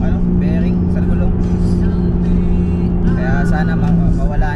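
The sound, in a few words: car driving with noisy wheel bearing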